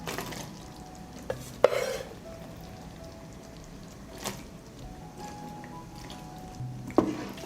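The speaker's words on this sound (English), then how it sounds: "I add pasta cooked al dente to the boiled sauce." Al dente pasta is stirred into a creamy hard-cheese sauce, giving quiet, sparse squelchy clicks and soft scrapes against a low background hum, with three sharper spoon taps spread across the stretch.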